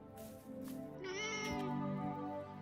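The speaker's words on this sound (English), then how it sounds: "here's our new kitty that we just got over in Janoon's castle" A cat in the Forspoken video game gives a few close, clear meows, the last one longer and rising, with no talk over it.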